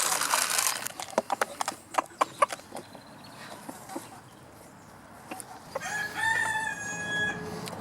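A rooster crows clearly near the end, in a backyard flock at feeding time, after a run of sharp taps and pecking clicks with a faint voice in the background.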